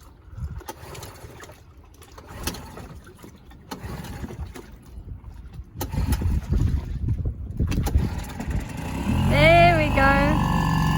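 A small dinghy's outboard motor starting up and running on its first test run, a rough engine drone building louder toward the end amid wind buffeting and water noise, with a brief whine near the close.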